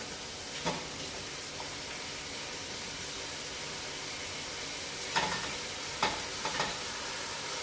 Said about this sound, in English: We're going to brown it all down.